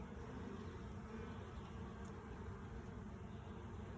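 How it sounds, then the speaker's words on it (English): Honeybees buzz around a troublesome hive in a continuous, low droning hum. The sound is close and steady, with no voices over it. "Look at that, bee's checking out that dead bee."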